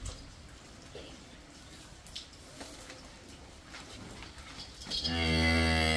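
A cow on a farm with cattle for sale, its calf nearby, gives one loud, close moo in the final second, after a stretch of quieter farm background.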